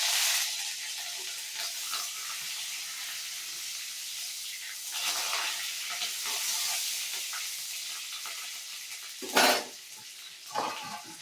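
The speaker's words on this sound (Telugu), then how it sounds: "ఇప్పుడు కరివేపాకు వేసేసుకున్నాము" Curry leaves hit hot oil already tempered with dal, cumin, mustard seeds and a dried red chilli, giving a continuous sizzle and hiss with scattered scrapes and clinks of a spoon stirring in a pan.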